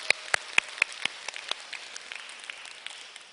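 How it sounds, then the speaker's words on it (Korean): A church congregation giving a round of clapping, heard as a run of sharp, evenly spaced claps that quickly soften into a light, scattered patter in a reverberant room. "박수 한번 치겠습니다"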